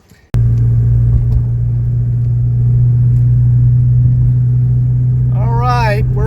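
A 2005 Mercedes-Benz E320 CDI on the road gives a loud, steady interior engine and road rumble with a constant low hum that begins abruptly after a brief quiet moment. A short wavering whistle-like sound rises near the end.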